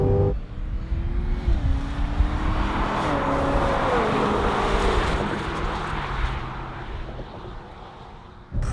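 A 2016 Cadillac CTS-V runs laps on a racetrack, its engine roaring loudly and steadily throughout as revs climb and shift through gears, near and continuous with no talk.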